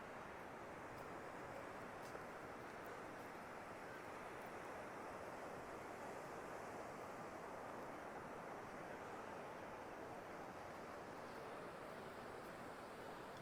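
Small ocean waves break at a beach, a faint, continuous wash of surf with some wind noise across the microphone, steady and without talk.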